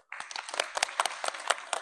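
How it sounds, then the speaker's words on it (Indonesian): Students in a classroom clap for a classmate's correct answer, a small group's irregular, close, fairly distinct handclaps starting abruptly and continuing briskly. "Silakan tepuk tangan dulu."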